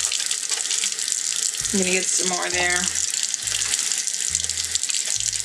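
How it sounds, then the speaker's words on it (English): Hands washed with soap under a running tap of warm water, a steady close stream splashing into the sink while a person speaks briefly over it. "we want to make sure that we wash our hands in nice warm water with suds and soap"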